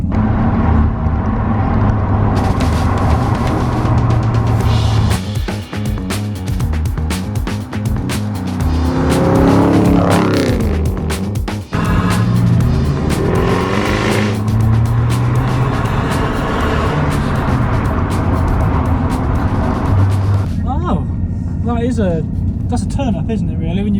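A Jaguar XJR575 with a 5-litre supercharged engine drives hard, its steady engine roar and road noise running loud throughout while people talk over it inside the car.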